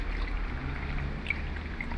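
Water pours steadily into a pot during home cooking of kafta, a continuous close trickle with a low background hum and no talking.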